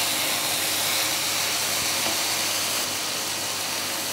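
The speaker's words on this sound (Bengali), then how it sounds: "ভালো করে মিশিয়ে একটু জল দিয়ে দেবো" Hot pan steaming and hissing after a little water is added to spiced chicken pieces being cooked for a Kolkata-style egg-chicken roll; a steady, loud, broadband hiss runs throughout with no talk.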